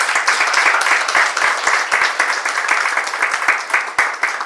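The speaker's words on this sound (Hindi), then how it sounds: "मैं चाहता हूँ कि एक बार उनके लिए आप एक जोरदार ताली।" Steady, dense applause from a theatre festival and awards ceremony crowd, continuous and fairly loud with a few sharper individual claps standing out.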